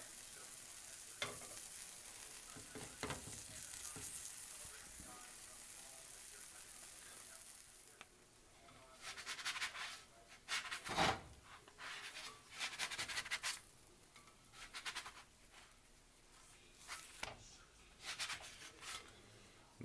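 A pulled pork quesadilla fries in a pan, giving a soft, continuous sizzle broken by louder scraping and flipping bursts from a spatula.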